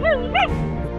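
Stray dogs barking in a street during a food shortage, several loud yelping barks in quick succession, close and clear with no talk.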